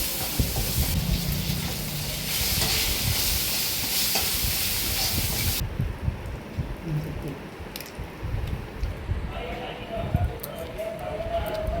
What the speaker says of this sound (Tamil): இந்த இஞ்சி, தேங்காய் கொஞ்சம் வதங்கணும்.